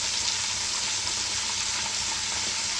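Onion masala paste frying in hot oil makes a dense, steady sizzle close up, with no voices.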